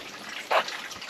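Weak trickle of water running from a GE water softener during its backwash cycle, faint and brief with a small splash in the middle.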